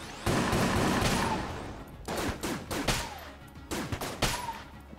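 Rapid video game gunfire from Enter the Gungeon, with dense bursts of shots and blasts arriving in several loud volleys and brief gaps between them.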